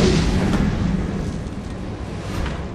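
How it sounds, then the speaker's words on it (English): Remote bomb blast in Resident Evil 7, a deep booming explosion that rumbles and decays over a couple of seconds, with no talk. "Let's blow him up."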